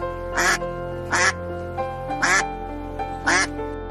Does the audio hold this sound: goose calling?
yes